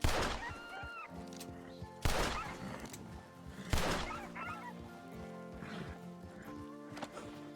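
Geese honk in bursts inside a role-play video game, three loud clusters of calls about every two seconds over steady game ambience and music.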